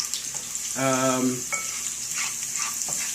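Salt frying in oil in a pan gives a continuous sizzle with occasional light scrapes of stirring, with a short tonal whine briefly rising above it.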